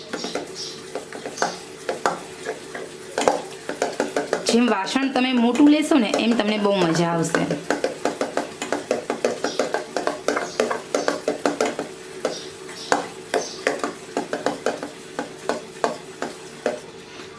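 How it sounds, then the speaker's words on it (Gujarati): Khaman batter being stirred in one direction in a vessel: rapid, rhythmic scraping strokes repeat steadily, with someone talking briefly over them partway through. "તો હજી આપણે 1 મિનિટ સુધી હલાવીશું."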